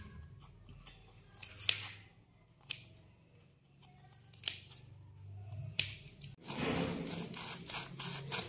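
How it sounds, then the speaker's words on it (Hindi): Scissors snip through a homemade chicken sandwich roll in a home kitchen, giving several sharp, close cuts spaced a second or two apart over quiet background, followed by a rougher rustling scrape near the end. "कैंची से मैं काट लेती हूँ।"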